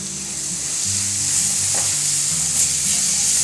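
Finely chopped tomato cooks with garam masala and other spices in a pan for cheese angoori sabji, sizzling loudly and steadily up close, with scraping stirs breaking through now and then.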